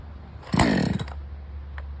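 A cheap Chinese two-stroke chainsaw starts up with a loud, roughly half-second burst of engine sputter, then settles into a steady low idling drone, close by with no talking.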